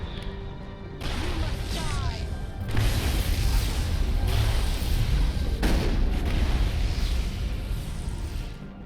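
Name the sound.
sniper gunfire in the video game Mass Effect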